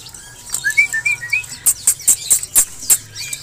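A pied myna whistles a few short rising notes, then gives a series of sharp, bright calls in a steady rhythm, close and clear over quiet background.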